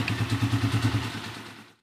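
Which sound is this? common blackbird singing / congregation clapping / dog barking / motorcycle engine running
motorcycle engine running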